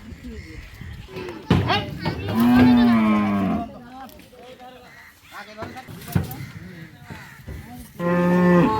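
Friesian dairy cows moo loudly up close, two long bellows with a third starting at the end, while people talk in between.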